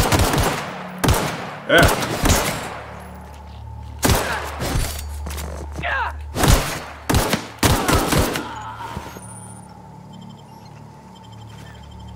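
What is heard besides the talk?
gunfire from a weapon in the video game The Outer Worlds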